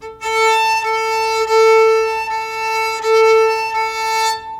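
Violin bowed with too little pressure on the strings, giving a thin, reedy, squeaky sustained tone with a few bow changes, close and fairly loud, played alone with no talk.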